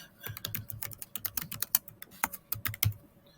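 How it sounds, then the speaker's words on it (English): Rapid typing on a computer keyboard, irregular bursts of close key clicks with brief pauses, no voices. "I can add a comment, and I can type a comment."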